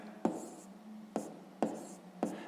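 Pen writing out a maths calculation on paper, four short scratchy strokes spaced unevenly, quiet and close, with no talk over them.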